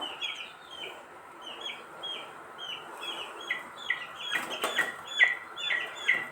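Chickens clucking next to a home kitchen, a steady run of repeated clucks and soft calls at moderate distance, with a few sharper squawks and a brief wing flutter toward the end.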